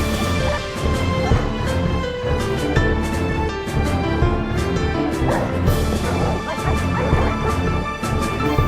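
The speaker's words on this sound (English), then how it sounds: "I then pushed all my dogs into the contraption and loaded it up." Minecraft dogs bark and whimper together in a dense, continuous clamour throughout, loud and close, with yips and crashes mixed in and no talking.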